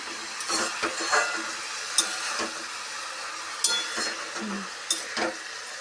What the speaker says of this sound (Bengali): তো চলো ভালো করে নেড়ে নিই নাড়াচাড়া করতে করতে জল বেরোবে